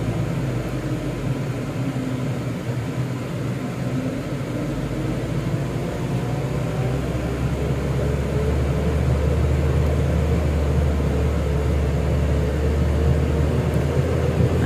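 An Isuzu Elf truck grinds up a steep, extreme S-bend incline in first gear, its engine a loud, steady low drone that rises slightly in strain toward the end.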